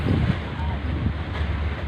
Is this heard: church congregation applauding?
no